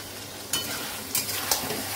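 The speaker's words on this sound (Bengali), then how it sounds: "এবার হচ্ছে মাংসটা বসিয়ে দিই।" Meat dropped into a pan of deep-browned fried onions sizzles loudly and steadily, with a few sharper spits and crackles breaking through the continuous hiss.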